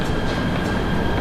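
Steady rumble of a train carriage in motion, continuous low roar with faint wheel rattle, close and enveloping, no voices over it.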